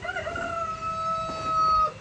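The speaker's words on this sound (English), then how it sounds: "As you can see, the turkeys are out here this morning" A steady, tonal call from nearby turkeys outdoors in the morning, sustained with slight wavering, over a low background hum; no voices.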